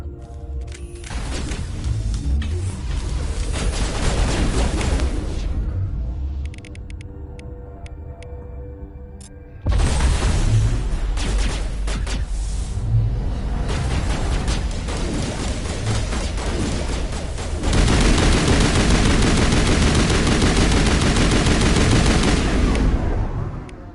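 Dense gunfire in a firefight in Mass Effect Legendary Edition: rapid weapon bursts rattle loudly and almost continuously, with a short lull before a heavier, sustained volley.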